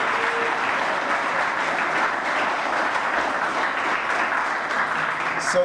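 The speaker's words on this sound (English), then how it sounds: "Let's give them a round of applause for the job well done." A room full of people at the Greater Pittsburgh Community Media Awards ceremony claps steadily, and the dense, even applause holds at a constant level from start to finish.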